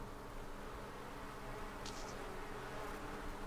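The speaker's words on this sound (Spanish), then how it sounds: "mucho repelús el sonido de la abeja" Buzzing bees in The Sims 4 game, a steady insect drone running under a constant hiss for the whole stretch, with a brief brighter flutter partway through.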